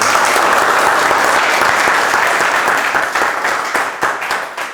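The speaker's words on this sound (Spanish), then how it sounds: "quiero a todos pedirles un aplauso para él." Audience applause honoring the organizer of an academic logic lecture event, a steady dense wash of clapping from a seated crowd that holds strong and then begins to thin and break into scattered claps toward the end.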